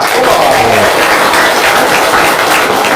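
Audience applause at an Indonesian televised event, steady dense clapping throughout, loud and close, with a faint voice briefly showing near the start.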